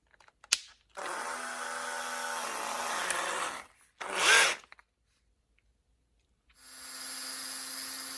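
A power tool cuts M8 fine thread bolts to length for a ride-on mower rotor, with a steady whining cut of about three seconds, a short burst, then a pause before a third cut begins, close and loud.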